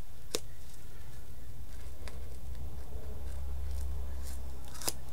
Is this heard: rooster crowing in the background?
no